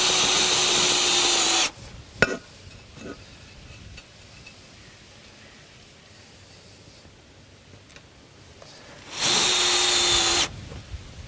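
A power drill drives screws to fix a small spacer into a metal terrace structure under slabs, with two loud, sustained whirring bursts at the start and end and a quieter stretch of light clicks and handling between.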